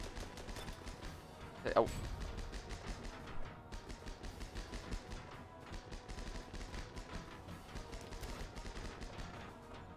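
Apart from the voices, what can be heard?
machine gun fire in a video game, Armored Battle Crew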